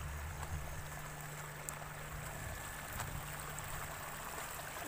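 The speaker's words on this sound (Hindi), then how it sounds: "ए देखिए छोटा झरना" A small waterfall stream flowing near a river crossing, heard as a constant, even rushing hiss with no breaks and no voices.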